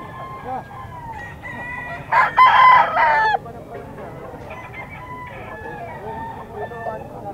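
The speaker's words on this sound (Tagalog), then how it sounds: "Itong straight comb na golden boy, oh." A straight comb golden boy rooster crows once at a pet market, a loud mid-clip call standing out over a steady background of other fowl clucking and faint crowd murmur.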